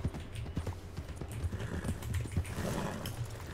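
Horse hooves clop rhythmically on the ground in Red Dead Redemption II, a brisk, moderately close gait of repeated thuds under a soft background wash.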